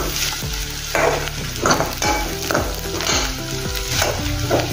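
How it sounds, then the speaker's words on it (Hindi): Onions fry in a pan under loud, close, repeated stirring strokes, the spoon scraping and clattering in a steady rhythm over a continuous crackling sizzle. "ये देखिए, अपना प्याज भी अच्छे से हो गया है, नरम भी हो गया है और थोड़ा कलर भी आ गया है।"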